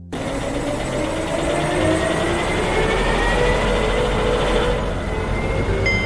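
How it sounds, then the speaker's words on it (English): A biplane drones overhead in one long, steady engine roar, loud and continuous, with a faint tonal hum rising under it and no voices. "A biplane flies up in the sky"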